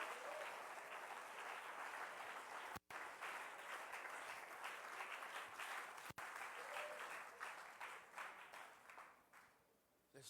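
A church congregation breaks into sustained applause, a dense wash of many hands clapping. It continues steadily and tapers off toward the end.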